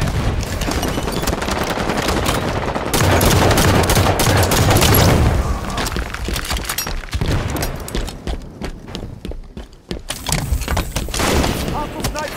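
Gunfire rattles in a Halo 5 Arena Slayer match, dense bursts of shots and booms close and loud, easing into scattered sharp cracks as voice callouts play over the fight.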